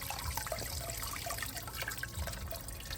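A solar-powered water fountain set up as a rustic backyard feature, pouring a steady, moderately loud stream of splashing and trickling water with no talking over it.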